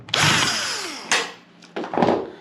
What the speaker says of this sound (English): Now we're going to remove the last two screws